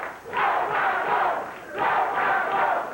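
A crowd at a Memphis wrestling match in 1990 chants loudly in two rising and falling waves, a rhythmic chant of cheering voices filling the arena.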